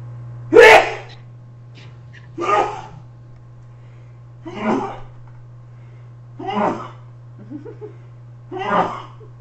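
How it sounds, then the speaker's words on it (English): A string of five loud sneezes spaced about two seconds apart, each a sharp burst over a steady low electrical hum. "there we have the 20 sneeze salute"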